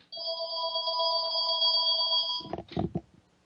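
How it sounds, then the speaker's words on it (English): A telephone rings with a steady electronic trill lasting over two seconds, then cuts off abruptly, followed by a brief handset clatter. "Excuse me, this phone is driving me crazy."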